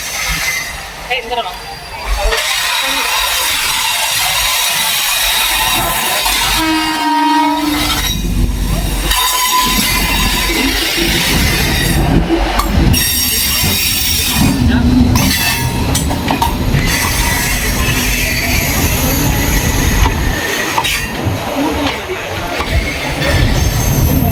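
A train rumbles past loudly for a long stretch near Nagoor Dargah in India, with a horn blast, squealing wheels and clattering cars, while voices talk over the din.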